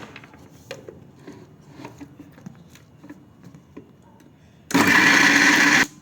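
An electric mixer grinder grinds onion and tomato in a loud, steady whir that lasts about a second near the end, following quieter clinks and handling sounds.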